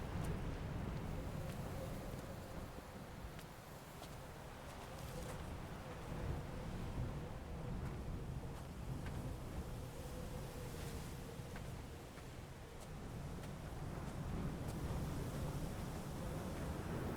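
Wind sweeps across a remote island in Dear Esther, a faint, steady broadband rush like distant surf that swells and eases gently over a long stretch with no one speaking.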